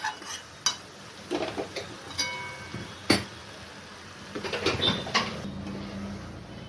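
A utensil stirs a shrimp dish in a pan, making scattered close clinks and scrapes over faint sizzling, before a lid is set on near the end.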